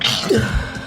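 A single short, close sneeze bursts out and is over in under a second.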